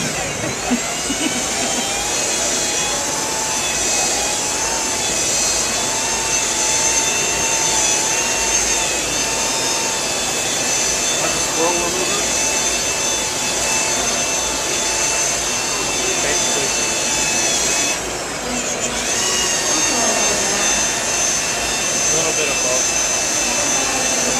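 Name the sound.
machine polishing car paint with compound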